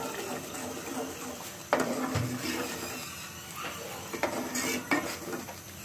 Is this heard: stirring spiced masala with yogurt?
yes